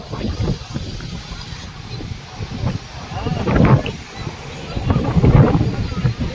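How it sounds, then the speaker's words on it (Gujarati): Wind gusts rumble across the microphone, swelling twice into stronger blasts over a steady outdoor whoosh. "ટાઢા પરનો પવન સારો આવે."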